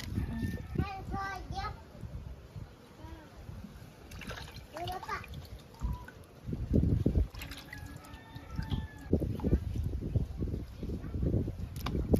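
Water splashes and drips as raw mutton is rinsed by hand, with irregular sloshing bursts while voices talk nearby.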